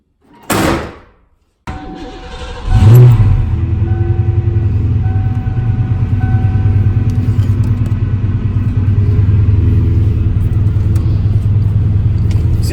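A 1988 Ford Mustang GT with a 5-speed manual starts up after a door slam, its V8 settling into a steady, loud, close idle rumble that continues throughout.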